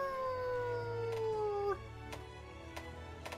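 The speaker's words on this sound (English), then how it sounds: "part of what it does is like howl whenever it's charging up" Zinogre, a wolf-like monster in Monster Hunter Rise, lets out a long, loud sliding howl as it charges up. The howl cuts off sharply and gives way to quieter game sounds with a few sharp hits.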